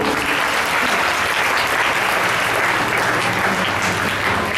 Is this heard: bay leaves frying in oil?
no